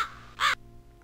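A bird in the video game Chronomaster gives one short, harsh crow-like caw, fairly loud and close, after a brief burst of hiss, then quiet follows.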